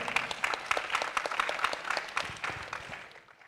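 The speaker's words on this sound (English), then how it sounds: "A round of applause." An audience applauds at a formal ceremony, a dense burst of clapping that is loud at first and then fades out, with no voices over it.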